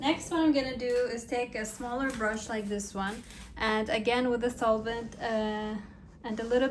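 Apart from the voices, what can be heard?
No everyday noises stand out.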